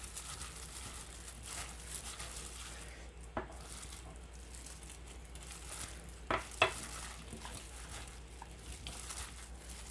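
Seasoned dried shredded squid being kneaded and tossed by hand, a soft, steady wet squishing and rustling with a few sharper clicks, close and quiet with no talking.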